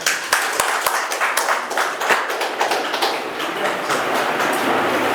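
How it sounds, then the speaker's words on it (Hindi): Enthusiastic applause from a crowd at an Urdu poetry mushaira, dense rapid clapping with a few sharper claps standing out, steady and loud for several seconds. "जोरदार तालियां हो जाए"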